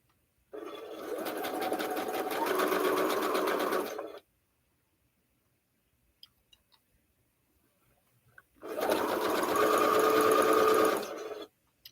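A sewing machine stitches fabric in two loud, rapid runs of a few seconds each, close by, with near silence between them broken only by a few faint clicks.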